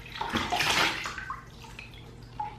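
Water splashed onto the face at a low sink during a skincare routine, a burst of close splashing and dripping over about a second that fades into quiet trickles.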